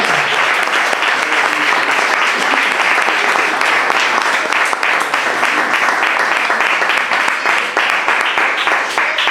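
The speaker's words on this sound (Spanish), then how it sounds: "Bien fuerte el aplauso al Señor." A church congregation applauding loudly, a full, steady burst of many hands clapping with some rhythmic accents, close and strong throughout with no break.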